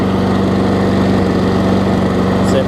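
A Toro self-propelled lawn mower with a Tecumseh engine, its cover removed and blade bent, runs loud and close in a steady, rapid mechanical drone with no talk over it.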